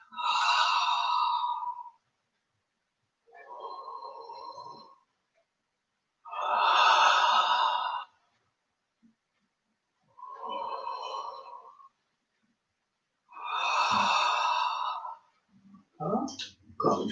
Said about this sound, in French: J'expire, je souffle, vers l'avant, j'inspire